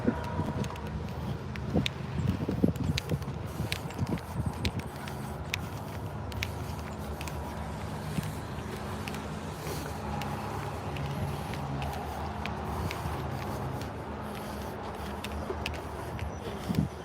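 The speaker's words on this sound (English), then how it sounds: "Chris is out on the skid pad in the Lotus Evora" A Lotus Evora driving on a wet skid pad, its engine a low droning hum at a distance, steady over faint background clatter and occasional knocks.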